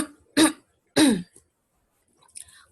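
Two sharp coughs close by, spaced about half a second apart, followed by a faint rustle, in a quiet classroom during a lesson.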